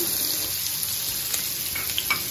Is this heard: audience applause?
no